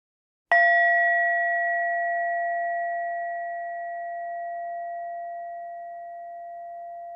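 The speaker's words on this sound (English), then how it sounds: "At the sound of the bell, return fully and open your eyes." A meditation bell is struck once, loud and close, at the end of a guided chakra rebalancing session. Its pure ringing tone slowly fades over several seconds, with nothing else heard.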